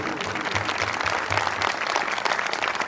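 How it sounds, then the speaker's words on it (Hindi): A church congregation breaks into vigorous applause, a dense continuous patter of many hands clapping at close range, with faint low-pitched background sounds beneath. "जोरदार ताली हो जाए पवित्र आत्मा जी के लिए"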